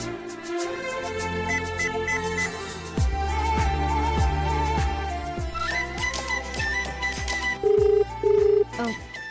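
A telephone rings during a TV serial scene, repeated electronic ring bursts over a loud, steady dramatic music score.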